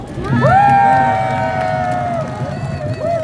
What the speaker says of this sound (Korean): 우리 서로 격려하는 의미에서 한번 크게 박수 한번 하시겠습니다